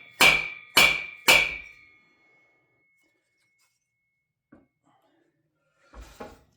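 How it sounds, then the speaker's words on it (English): Hammer striking a seized Ski-Doo Alpine snowmobile engine, three loud ringing metallic blows in quick succession, then a long quiet gap with faint knocks and a brief rattle. "we're just going to keep hammering away at that"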